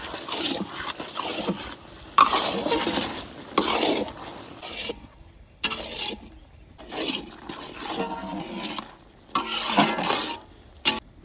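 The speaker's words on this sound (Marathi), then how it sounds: "तीळ पेस्ट व्यवस्थित कांद्यामध्ये आपण परतवून घेऊ." Sesame paste is stirred into onions in a pan for an onion chutney, with repeated close scraping and stirring strokes over a soft sizzle, coming in uneven bursts.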